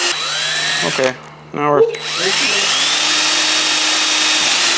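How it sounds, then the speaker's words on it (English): A power drill bores an 1/8 inch pilot hole through the roof of an International Scout Traveler, a loud steady whine that dips briefly as the bit catches and bites, then runs on; someone speaks briefly at the start. "drill an 1/8 inch pilot hole through the top"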